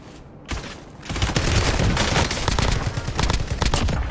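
Sustained heavy gunfire in Call of Duty: Warzone, a loud, dense fusillade of rapid overlapping shots that starts after a brief pause and keeps rattling without a break, close and alone.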